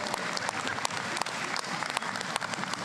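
Audience at a community college commencement ceremony applauding, a short burst of dense, steady clapping from a crowd.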